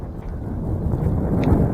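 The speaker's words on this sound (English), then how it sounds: "It's very cold, very windy, and it's just starting to rain" Steady low wind rumbling and buffeting against the microphone on a cold, snowy February hillside on Ireby Fell, with rain just starting, continuous throughout with no voices.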